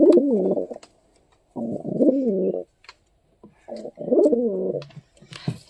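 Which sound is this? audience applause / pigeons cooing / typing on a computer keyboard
pigeons cooing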